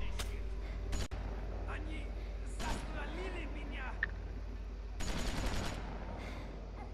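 Bursts of gunfire in The Walking Dead video game crack out in short rapid volleys, one near the start and a longer burst later, under and between spoken voices.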